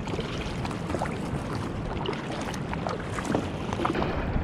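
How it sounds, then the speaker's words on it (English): Paddling a boat along the sea off Hawaii's coast north toward Kapoho in calm, low-swell conditions, a steady broadband wash of water with faint splashy strokes, close and continuous without talk. "Paddled an hour north."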